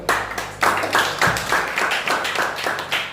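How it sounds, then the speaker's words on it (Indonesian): A crowd applauding a guest at an event, bursts of clapping repeating in waves, loud and close, without talk. "beri aplaus buat beliau"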